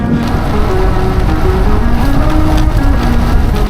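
Strong crosswind and rain in the Wicklow Mountains, a steady, loud roar of buffeting wind over continuous rain noise, unbroken throughout with no talk.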